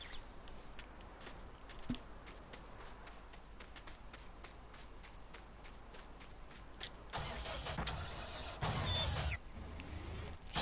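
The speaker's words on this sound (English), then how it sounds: "There's one, it's an autonomous tractor." An autonomous tractor engine in the farming video game Farming Simulator 19 starts and runs with a steady mechanical rumble and clicking rhythm, rising into a louder, rougher burst near the end, heard without talk.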